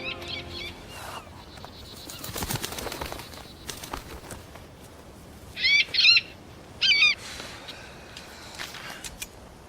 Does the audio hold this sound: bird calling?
yes